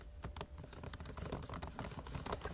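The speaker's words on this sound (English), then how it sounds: "I'm gonna be testing the speaker out here, and the keys are super quiet." Quick, light typing on the quiet keyboard of a Pixelbook Go Chromebook laptop, a close run of soft, irregular key clicks with no talk over it.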